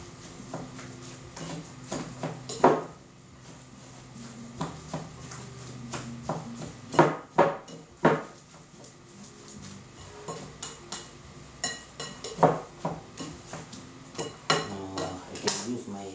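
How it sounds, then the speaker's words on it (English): Hand-mixing pure beef sausage roll filling in a bowl produces intermittent clinks, knocks and squelchy handling noises in irregular bursts, fairly close, with some talk in the background. "I can use my hand so that it's well mixed"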